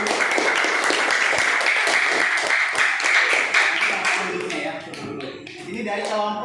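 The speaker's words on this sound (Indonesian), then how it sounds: "Beri tepuk tangan untuk kelompok religius." A classroom of students claps for a group, rapid dense clapping that holds strong for about four seconds and then thins into scattered claps and chatter as voices take over.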